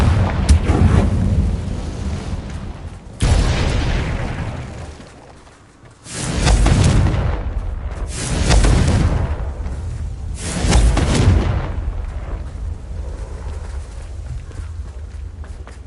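Explosions from the Confringo blasting spell in a Harry Potter video game, several deep booming bursts with rumbling tails, spaced a few seconds apart and loud up close.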